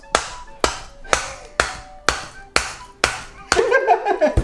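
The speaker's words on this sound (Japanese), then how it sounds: "ナタ当てて叩きます。" A camping hatchet strikes a large grouper's head seven times in a steady rhythm, sharp close thwacks about half a second apart, ending in a brief scraping clatter.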